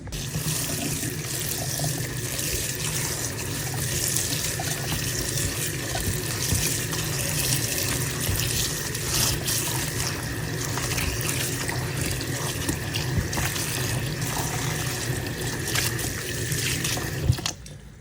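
Tap water runs in a steady, full stream over chopped red amaranth greens in a sink, a constant close splashing rush with no talk, ending with a small knock near the close.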